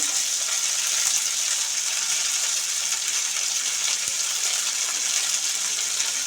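Beans sizzling steadily in hot oil in a home kitchen, a continuous close, bright frying hiss with no talk.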